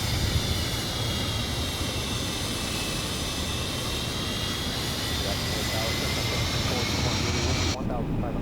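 Cockpit ambience of an MD83 airliner in Microsoft Flight Simulator 2024 with landing gear extending, a steady loud engine and airflow roar throughout that cuts off abruptly near the end.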